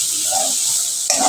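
Watermelon puri filling being mixed in a hot pan, a brief steady sizzle with a single sharper scrape of the spoon near the end, close and clear.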